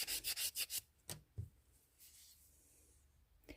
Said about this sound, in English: And I'll keep sanding just to show you the difference.